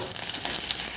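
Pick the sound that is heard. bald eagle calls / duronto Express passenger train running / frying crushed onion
frying crushed onion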